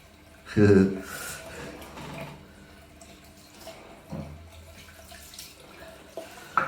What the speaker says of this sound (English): wash your face with the hottest water you can